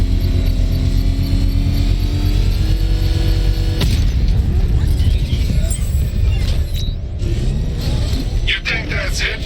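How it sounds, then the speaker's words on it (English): A controlled explosion set off with a power wrench in Batman Arkham Knight: a single loud, sudden boom near the middle, over a constant heavy low rumble, followed by scattered crackling debris. "I can use the power wrench to trigger a controlled explosion."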